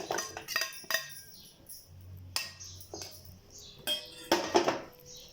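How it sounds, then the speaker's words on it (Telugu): A food offering is transferred into a bowl in a kitchen, with crisp metallic clinks and scrapes of utensils against dishes coming in separate irregular bursts between quiet pauses, close by. "ఇప్పుడు ఈ నైవేద్యాన్ని తీసుకొని గిన్నెలోకి మారుస్తున్నాను."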